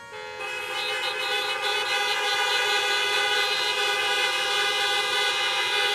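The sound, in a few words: car horns honking to salute graduates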